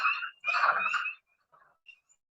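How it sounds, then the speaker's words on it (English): Wood frogs and spring peepers calling in short bursts, a dense chuckling wood frog chorus followed by a few faint, scattered calls; no one speaks. "this is when the peepers and wood frogs call"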